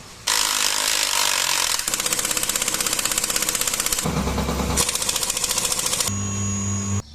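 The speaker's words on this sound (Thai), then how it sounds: "เราจะคลายน็อตให้ดู" A ratchet wrench loosens nuts on a gearbox cover, a fast steady clicking ratchet running almost continuously and loudly, with brief pauses and shifts in pitch between turns, no talking.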